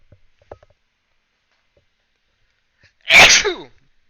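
A single loud, abrupt sneeze bursts out near the end after a few faint clicks and near silence.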